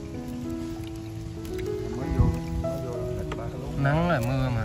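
Rain falls outdoors as a soft, steady patter that runs through the whole stretch, while people talk over it nearby.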